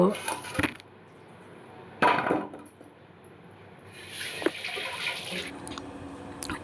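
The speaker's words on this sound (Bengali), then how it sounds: "ডাঁটাগুলো প্রথমে ভালো করে ধুয়ে নেব।" Moringa drumsticks are washed in a pot under running water, with short bursts of splashing, wet rustling and light knocks of stems against the vessel, separated by brief pauses.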